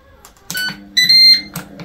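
An air fryer timer sounds a few sharp electronic beeps close by, with a longer steady tone in the middle and quiet kitchen noise around it.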